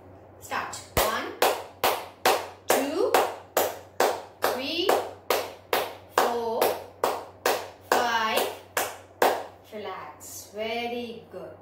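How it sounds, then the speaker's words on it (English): A class of schoolchildren claps hands in a steady counted rhythm, about twenty sharp unison claps, with a teacher's voice talking and calling out over them between beats. "Now start clapping."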